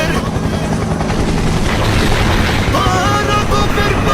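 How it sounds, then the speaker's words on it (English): An animated helicopter sound effect: a loud, steady, dense whir of rotor and engine noise holds evenly throughout, with a faint tonal sound near the end. "Helicopter, helicopter."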